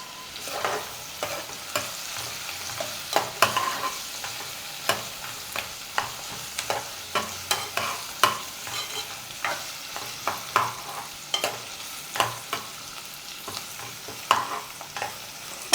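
Green chillies and curry leaves fry in a pan for an Andhra-style korameenu fish curry, with a low sizzle and repeated sharp scraping and stirring strokes at an irregular rhythm.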